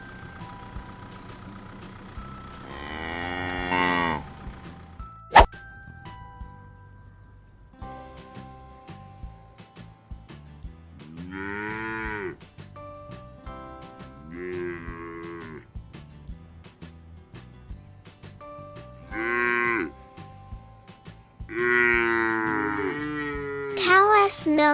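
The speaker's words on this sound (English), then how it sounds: "The cow." A cow moos several times, loud drawn-out calls spaced across the clip, with quieter stretches of farm background between them.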